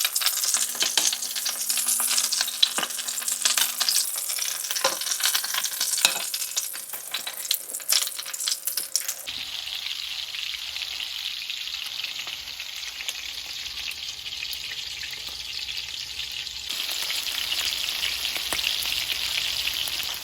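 Meatballs fry in a hot, smoky pan, a steady crackling sizzle with scattered pops, close and continuous, its tone shifting partway through as the pan is moved or disturbed, with no talking.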